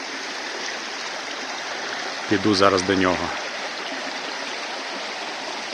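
Cold mountain stream rushing steadily in a forest, a constant bright hiss of flowing water, with someone speaking briefly and close over it midway.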